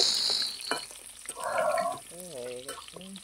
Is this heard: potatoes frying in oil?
yes